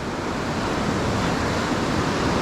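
Rapids on a river in high water give a steady, dense rushing roar with no breaks, close and loud.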